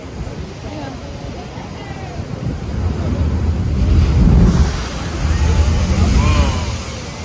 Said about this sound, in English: So the water comes up and sprays behind.